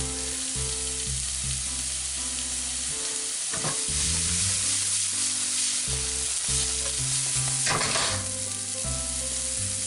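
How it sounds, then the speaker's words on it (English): Onions for a tomato pasta sauce sizzle and crackle in a pan, a steady hiss with occasional stirring bursts, partly buried under loud background music. "you want to do the onions first because they're going to take a good long while to cook"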